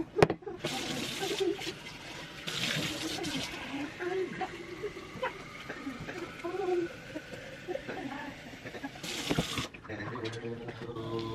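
Tap water runs steadily to refresh the water in a vase of roses, a continuous gentle splashing stream close by that stops briefly and restarts near the end.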